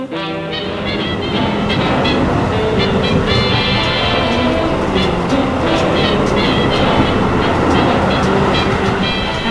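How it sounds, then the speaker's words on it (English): Continuous rumble and clatter of a moving train on a long rail journey, with rhythmic clickety-clack of wheels over track joints and a steady loud roar throughout. "Long train rides."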